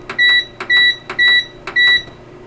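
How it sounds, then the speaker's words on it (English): Convection microwave in an RV fifth wheel gives four evenly spaced electronic beeps, close and clear over a quiet background. "Convection microwave on some of these Momentums."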